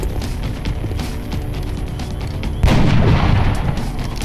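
Gunfire in the XCOM video game: a steady rattle of shots builds to a loud, booming blast partway through, with dense battle noise around it.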